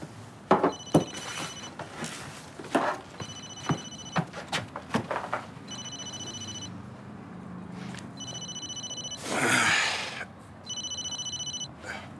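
A telephone rings unanswered indoors in a French TV drama scene, its electronic bell sounding in about five evenly spaced bursts over quiet room tone, with a brief rushing swell between the last rings.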